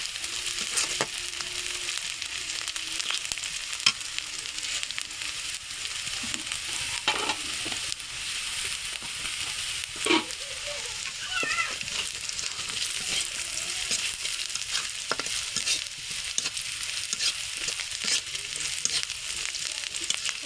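Onions frying in a pan until brown give a continuous hissing sizzle over about twenty seconds, with occasional stirring scrapes and knocks, close by and with no one talking.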